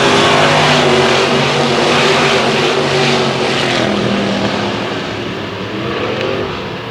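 A field of race cars at Susquehanna Speedway roars away on the restart, a loud, dense, continuous engine drone that holds strong and then eases slightly as the cars move off, no voices.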